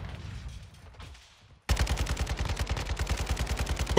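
Rapid automatic gunfire from Modern Warfare 2 bursts in loud and steady after a quiet stretch, a fast rhythmic stream of shots running continuously to the end.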